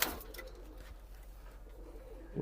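Indoors, a pair of Kaldom desi pigeons in a room give a faint, low, continuous cooing murmur under quiet room noise.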